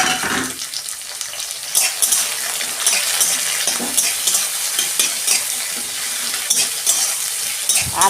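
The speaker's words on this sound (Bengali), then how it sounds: "টমেটোটা একটু ভালো করে কষে নিয়ে তারপর এই সবজিগুলো দিয়ে দিচ্ছি" Tomato with green chili, bay leaf and ginger paste sautéing in a pan for a vegetable daliya, giving a loud, steady sizzle with frequent scraping and clattering of a spatula stirring, no voices.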